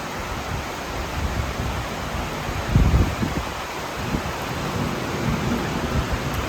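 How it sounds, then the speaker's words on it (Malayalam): Heavy rain hisses steadily while a deep roll of thunder rumbles up near the middle and fades away. "നല്ല ഇടിയൊക്കെ വെക്കുന്നുണ്ട്"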